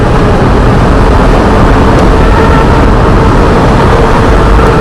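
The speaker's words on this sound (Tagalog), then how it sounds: "Ayan full throttle tayo sa Osmeña Highway." Coswheel T24 e-bike at full throttle on the Osmeña Highway, a loud continuous rush of wind and road roar with a steady drone and no speech.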